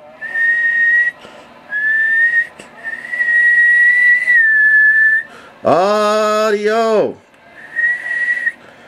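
A person whistles into a radio microphone during a wattmeter test, several sustained steady tones in short bursts, with one louder, rising-and-falling whistle in the middle and a brief spoken word nearby.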